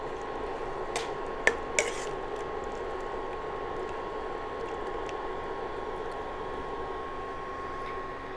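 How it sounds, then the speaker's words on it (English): Shrimp and drumstick curry with curry leaves stirred in a pan, a soft steady sizzle and bubble with a couple of sharp utensil clicks early on, close and fairly quiet, no talk. "Let's give it a good mix."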